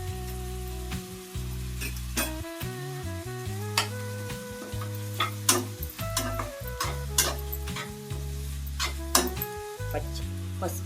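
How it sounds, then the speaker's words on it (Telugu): Ginger garlic paste frying in a pan, with a steady sizzle under repeated scraping and clinking of a spoon against the pan, close and busy throughout. "మళ్ళీ బాగా వేపుకుని ఇప్పుడు ఇందులో అల్లం వెల్లుల్లి పేస్ట్ వేద్దాం"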